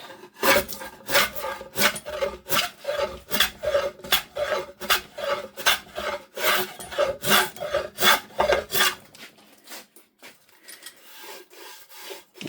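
A homemade scrub plane shaves wood to give it a faux barn-wood texture, producing a steady run of loud, rhythmic rasping strokes about twice a second that stop near the end, leaving quieter handling noise.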